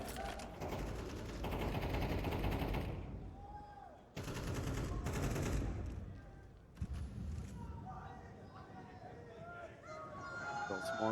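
Rapid gunfire bursts from a Counter-Strike esports match between G2 and opponents, loud and continuous with dense spraying, heard under excited commentator talk and crowd noise.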